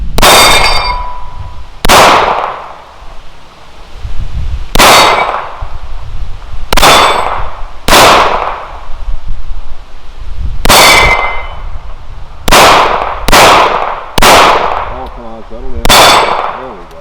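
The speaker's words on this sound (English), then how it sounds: "we'll shoot it from a moving star, and we'll see what happens" Pistol shots ring off the steel plates of a moving portable Texas Star target, with about ten sharp metallic clangs spaced irregularly, loud and close, each followed by a brief ringing decay.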